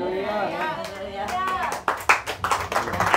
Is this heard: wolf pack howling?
no